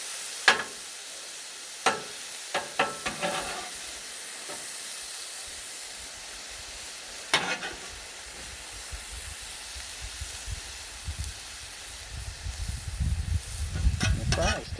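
Cheesesteak and fries cooking on a Blackstone griddle, a soft steady sizzle with scattered spatula taps and scrapes, one louder clatter midway and a rising rumble of frying near the end, close, no talk.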